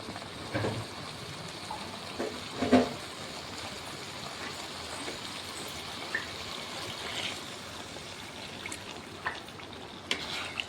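Water trickles and streams steadily into a cooking pot of mutton curry with chilli powder, a soft continuous pour with a few small clinks along the way.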